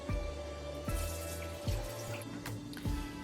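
Soaking water being poured off sea moss: a close, wet trickle into a sink, punctuated by several distinct splashing drops at irregular intervals. No talking.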